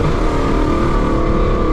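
A rebuilt second-generation Mustang engine revs hard and loud, its dense exhaust roar holding steady throughout with a rumbling low end, close and continuous.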